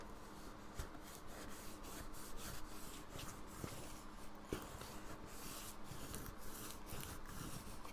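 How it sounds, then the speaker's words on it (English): A burnishing tool rubs and presses glued paper down onto card in steady back-and-forth scraping strokes, close and fairly quiet, with no voices. "I'm going to go ahead and mush it down with my burnishing tool here"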